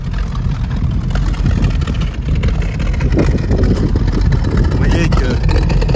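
A 1932 Ford roadster hot rod runs through its dual exhaust with a loud, steady, deep idling rumble close by, while someone talks over it.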